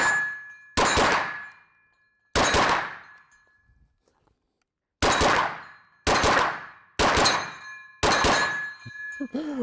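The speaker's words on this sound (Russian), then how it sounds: "Гонг на 15 метров 20-сантиметровый." KRISS Vector bullets strike a 20 cm steel gong set at 15 meters, giving six sharp metallic clangs at irregular intervals, each followed by a bright ringing decay.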